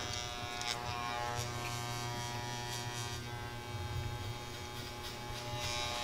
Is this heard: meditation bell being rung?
no